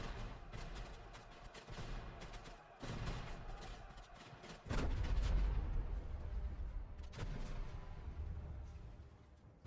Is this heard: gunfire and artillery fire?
yes